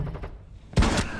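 Gunfire in Rainbow Six Siege, a sudden loud burst near the end of the clip after a quieter stretch.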